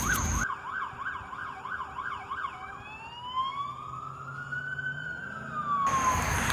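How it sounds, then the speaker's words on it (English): A police car siren passes on a Sunday near CSX railroad tracks: a rapid warbling wail shifts into a slower rising and falling tone as the car goes by, over steady road and outdoor noise. "we caught this cop car going by."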